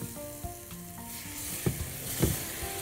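Mushrooms frying in a pan while being stirred, for a caramelized onion and mushroom sauce: a soft steady sizzle with a few louder scraping stirs, close and without talk.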